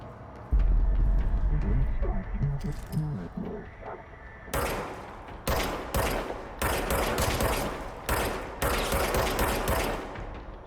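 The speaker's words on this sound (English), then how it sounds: "Let's start shooting." Gunfire in the video game Control: loud, close bursts of rapid shots in repeated volleys, each cracking sharply and tailing off, after a stretch of quieter game ambience.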